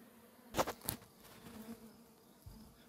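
A calm honeybee swarm hums faintly and steadily, with a couple of louder close passes of individual bees buzzing near the listener early on.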